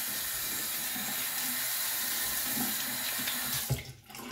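A faucet runs steadily into a sink while someone rinses after a shave, a close, even rush of water that stops abruptly near the end, with no talking.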